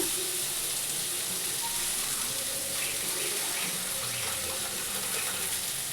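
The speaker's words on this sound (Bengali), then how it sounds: "মিক্সি ধোয়া বাটিটা একটু ধুয়ে দিয়ে দিলাম জলটা" Water from a rinsed mixer-grinder bowl poured into a pan of cooking poppy seed paste for a vegetarian pea-lentil fritter curry, a steady close splash and trickle lasting throughout with no talk.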